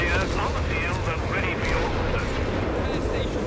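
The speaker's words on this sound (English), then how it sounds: "Looks like the naval's targeting the howitzer" A naval artillery barrage in Company of Heroes 3 lands as a steady, dense roar of heavy rumbling impacts and gunfire, loud and sustained with no pause.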